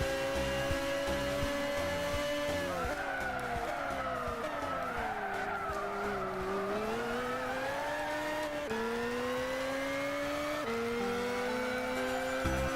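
A Subaru race car drives in Gran Turismo 6, its engine droning loud and continuous with pitch rising and falling through the gears while tires skid and squeal through corners.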